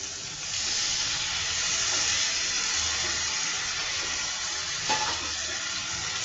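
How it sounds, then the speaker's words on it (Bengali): Water splashed into a pan of frying chili powder and cumin for a beef liver and carrot curry sets off a loud, steady sizzling hiss that runs unbroken from start to finish, with no voices. "এখানে একটু পানি অ্যাড করবো।"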